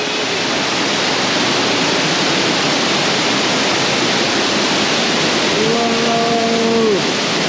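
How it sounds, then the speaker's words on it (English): A waterfall at a bird park, heard from inside the fall itself, pours as a loud, dense, continuous roar that fills everything, with a brief high whistle-like tone near the end. "We're going inside the waterfall."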